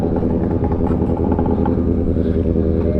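A Yamaha Banshee quad's two-stroke engine revs loud and close, holding a steady, throbbing buzz for the whole stretch with no talk over it.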